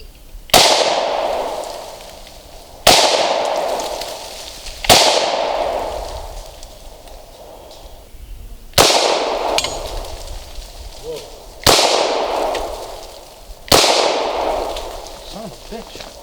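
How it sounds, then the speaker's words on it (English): Six loud, sharp pistol shots from Smith & Wesson and Hi-Point handguns at an outdoor target range, fired one at a time about two seconds apart at a target 20 to 25 feet away, each shot ringing briefly before fading. "We're shooting at about 20 feet, 25 feet away"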